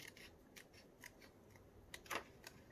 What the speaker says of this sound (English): Actually, I probably should get some smaller scissors.